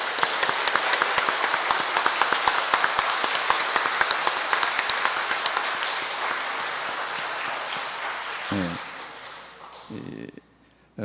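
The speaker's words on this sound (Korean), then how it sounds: "감사의 박수를 한 번 더 보내." Applause from an audience at a lecture event in a Catholic parish hall, sustained dense clapping that fills most of the span before thinning out, with a few voices near the end.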